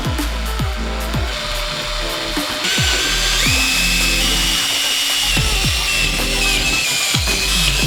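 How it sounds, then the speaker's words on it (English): A power drill whines and bores holes in repeated bursts while building a riot shield, pitch dropping as it bites, loud and close with no talking. "I gotta drill these holes right now."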